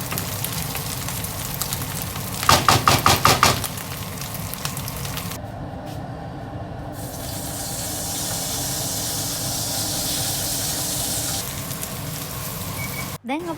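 Banana flower sizzles in a frying pan for a traditional Sri Lankan kesel muwa dish, a steady broadband hiss rising after a short burst of rapid clattering, close and fairly loud.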